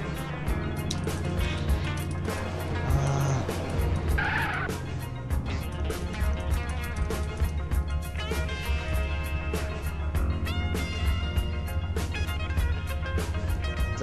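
Car driving in GTA San Andreas Multiplayer, a steady engine drone with occasional tyre squeals and skids, mixed with game sounds and background music, continuous and fairly loud with no talking.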